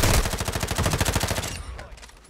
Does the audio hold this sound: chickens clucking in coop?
no